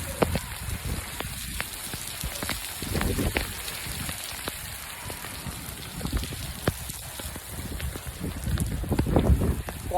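Heavy rain pours steadily over a village in Punjab, a dense hiss with scattered drop impacts that swells louder toward the end.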